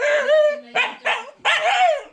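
A dog barks and yips in four bursts indoors, the first a drawn-out whining bark followed by three sharper, rising barks, loud and close with no talk over them.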